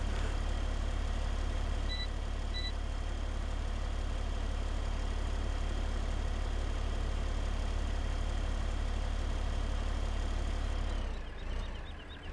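A small go-kart engine with a small or missing muffler in Farming Simulator 15 drones steadily at a thin, whiny pitch throughout, loud and continuous, with a brief dip near the end.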